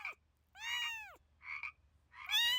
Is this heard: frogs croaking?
yes